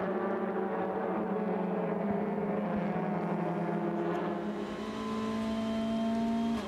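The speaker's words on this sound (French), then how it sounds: "Yvan Muller vient mettre la pression sur le pilote Alfa Romeo, lui-même talonné par la Honda Civic d'Esteban Guerrieri" Touring race cars, including an Alfa Romeo and a Honda Civic, running in a pack at the WTCR Race of Japan, a steady layered engine drone at high revs with pitch shifting as the cars pass, no voices.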